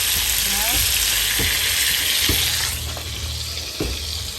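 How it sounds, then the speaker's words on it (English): Steady loud sizzling of chicken frying in hot oil outdoors, a continuous crackling hiss with a few faint clinks and scrapes over it. "she outside frying chicken"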